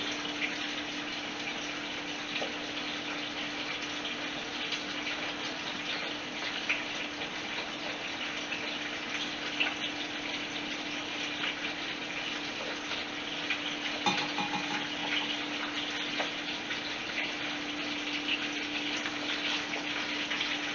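Running tap water pouring steadily for hands being washed in a home kitchen, a constant even rush close by with faint handling sounds and no talk.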